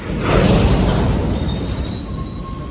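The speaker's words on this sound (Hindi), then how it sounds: "अभी प्लेटफॉर्म क्रमांक 5 पर आई है काशी एक्सप्रेस" The Kashi Express arrives at platform 5 of Jaunpur Junction with a loud, close rumble and rushing roar that slowly eases, a thin high tone sounding faintly over it.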